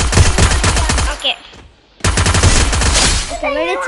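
Rapid automatic gunfire in a shooter video game, two loud sustained bursts of dense rattling shots separated by a short quiet gap, with a brief electronic whistle at the end.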